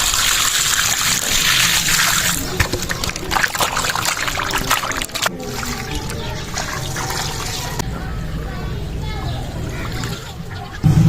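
Tap water runs and splashes steadily while desi chicken is rinsed clean after cutting for Arabic-style mandi, close and fairly loud, with the flow easing partway through.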